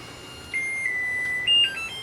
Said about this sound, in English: our timer's gone off